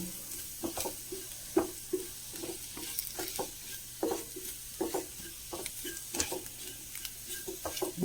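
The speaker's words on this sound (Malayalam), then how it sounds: "അതും കൂടി ചേർത്തൊന്ന് വഴറ്റി കൊടുക്കാം" Pepper and fennel powder are sautéed in a pan, a soft sizzle running underneath while a spoon scrapes and stirs in quick, irregular strokes, close and fairly quiet, with no talking.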